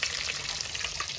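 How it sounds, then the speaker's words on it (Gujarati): Pomfret fish frying in hot oil, a steady dense sizzle with crackling spatter filling the whole moment, close and continuous with no talk. "કેમ પણ પાપલેટ 1 નંબર તળાઈ ગઈ છે."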